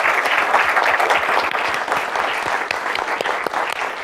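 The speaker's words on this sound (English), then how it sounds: "can we give a round of applause to everyone up here tonight?" A packed audience at an evening community event on immigration stories gives a loud, sustained round of applause, dense clapping filling the whole stretch without pause.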